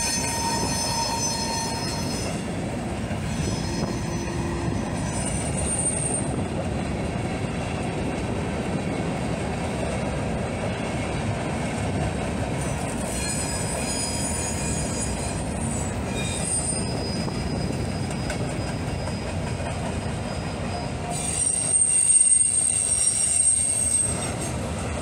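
A freight train of articulated auto racks, boxcars and hoppers rolls past nearby in a continuous loud rumble of wheels on rail, with metallic wheel squeals rising and fading throughout.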